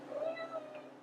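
A pet cat gives one short, soft meow in a home kitchen during flourless blueberry pancake making, heard alone against quiet room tone.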